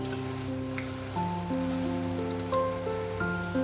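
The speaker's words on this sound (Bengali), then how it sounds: "তো চলুন এইভাবে একে একে ভেজে নিই" Puffed rice pakoras frying in hot oil: a steady crackling sizzle close by, running under faint background music with sustained tones.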